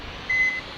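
A vehicle gives one short, steady electronic reversing beep on a road, heard close over a constant background hiss.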